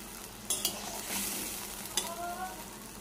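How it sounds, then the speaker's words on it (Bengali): Poppy seed paste being stirred in an oil-filled frying pan: a soft sizzle under scraping spatula strokes, with a few sharp clinks of utensil against the pan, fairly quiet and without talk. "চলো ভালো করে নেড়ে নিই পোস্তটাকে"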